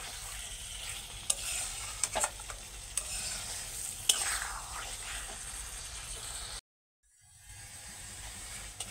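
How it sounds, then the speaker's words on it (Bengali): Pointed gourd with spices stirred and fried in a pan: a steady sizzle with scraping spatula strokes and clinks, cutting out briefly to silence before the frying resumes. "দু এক মিনিট পটলটাকে ভালো করে নাড়াচাড়া করে কষিয়ে নিয়েছি।"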